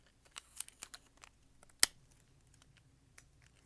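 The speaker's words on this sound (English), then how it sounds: "Cut along the tuck line." Scissors snipping through a paper pattern along the tuck line while a top's pattern is traced from an existing garment; sparse quiet clicks and short cuts, with one sharp, louder snip standing out, no voices.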